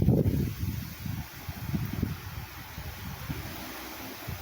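Strong wind gusts ahead of a hurricane rumble and buffet close by, a low roaring rush that surges at the start and keeps blowing steadily.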